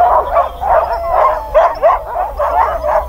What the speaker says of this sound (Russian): собаки начинают с ума сходить, когда начинают запрягать упряжку